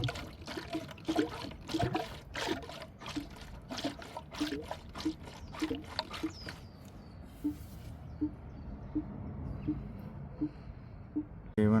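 Air bubbles glug out of the coolant hose while a 2020 Toyota Prius AWD cooling system is refilled after a thermostat replacement, a steady run of irregular gurgling pulses close by that thins out toward the end.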